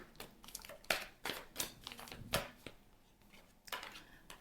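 Cards flipped over and shuffled on a table during a tarot reading, making a string of quick crisp snaps and soft slides that come close and clear with no talking over them.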